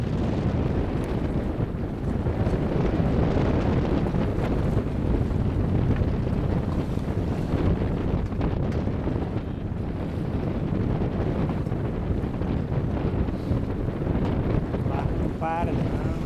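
A fishing boat moves over open water amid heavy buffeting wind and splashing waves, a dense continuous rumble with brief faint chatter near the end.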